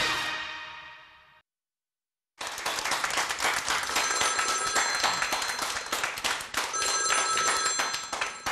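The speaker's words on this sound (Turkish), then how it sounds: "telefonlarımız çaldı" Several telephones ring together in a TV studio, a bright trilling clatter that starts abruptly after a brief silence and keeps going, following a fading tail of an earlier sound.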